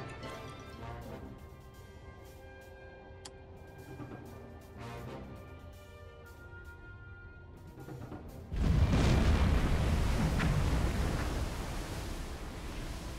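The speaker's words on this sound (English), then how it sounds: "We just had a dud. Premature detonation." A dud torpedo detonates prematurely in the Silent Hunter 4 submarine game aboard the USS Plunger, a deep rumbling boom swelling over steady underwater ambience and lingering several seconds.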